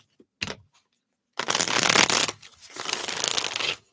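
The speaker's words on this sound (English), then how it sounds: "That's a good shuffle here." Tarot cards being shuffled by hand: a brief riffle, a pause, then two longer rustling, flapping runs of cards close up with nothing else around.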